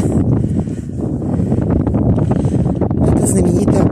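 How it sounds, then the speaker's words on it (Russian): Steady, loud wind buffeting the microphone outdoors on Mount Mithridates in Kerch, Crimea, a continuous low roar with gusty rustling throughout. "Ветер поднимается."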